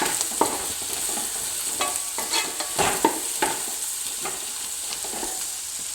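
Egg fried rice being stirred and tossed in a pan over heat, a steady sizzle broken by repeated scraping strokes of a spatula, close and fairly loud with no talking.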